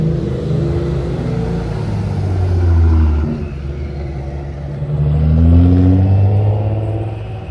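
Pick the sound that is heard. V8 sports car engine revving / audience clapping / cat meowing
V8 sports car engine revving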